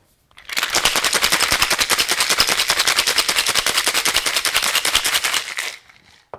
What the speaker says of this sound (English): Now shake until well chilled